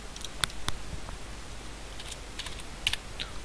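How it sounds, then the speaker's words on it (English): A computer keyboard is tapped in short, irregular bursts of crisp, close keystroke clicks against a faint steady room hiss, with no talking. "Let's type good in there."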